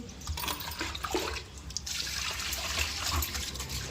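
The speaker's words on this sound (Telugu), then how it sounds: "నీళ్ళు" Water pours and splashes continuously while pond fish are cleaned, a steady close rushing flow with a brief dip in the middle before it surges again.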